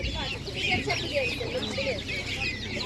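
Hens cluck among market-stall chatter at an animal market, with people talking and haggling close by over a dense, steady background of birds.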